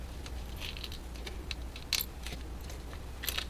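Keys hanging from a handmade junk journal charm jangle in a few brief, light metallic clinks, close and soft over a low steady background hum.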